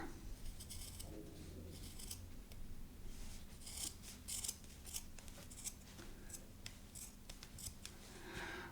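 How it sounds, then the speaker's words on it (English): Scissors cut through the end of a cotton sock in a run of quiet, close snips and crisp fabric crunches, with a faint rubbing between cuts and no talking. "Okay, so let's go ahead and cut the end off the sock."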